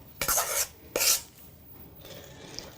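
Two short raspy scrapes of a metal spatula dragging buttercream icing across a cake, each about half a second, close and distinct, followed by near quiet.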